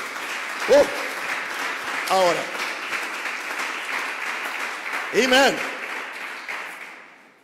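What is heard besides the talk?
congregation applauding in church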